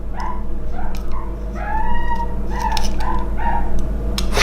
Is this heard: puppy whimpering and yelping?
yes